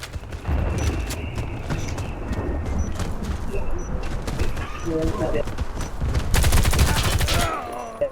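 Gunfire in the video game Warface on a factory map, as dense, continuous bursts of close shots with a louder stretch near the end, heard under players talking.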